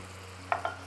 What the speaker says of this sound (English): that little bit of cream. You'll hear it bubble and go crazy.